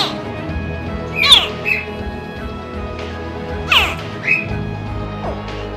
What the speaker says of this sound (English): Ever heard a baby crocodile chirp?